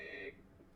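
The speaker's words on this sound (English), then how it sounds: "It's actually my mom's text message ringtone." A text message ringtone on a mother's phone plays a short bright tonal chime for about a third of a second, fairly quiet, then fades into faint background noise.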